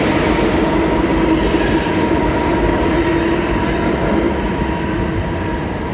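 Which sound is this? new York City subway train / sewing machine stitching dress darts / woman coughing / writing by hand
new York City subway train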